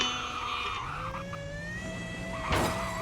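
Small high-horsepower car drifting in Roblox Driving Empire, a steady engine whine with rising pitch held throughout, and a brief louder tire-skid burst near the end.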